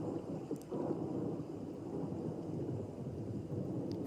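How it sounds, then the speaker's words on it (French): Steady rain pours through a thunderstorm while low thunder rumbles continuously beneath it, a dense even wash with no voices. "Vous pouvez en profiter pour vous laisser bercer par le son de la pluie, le son de l'orage."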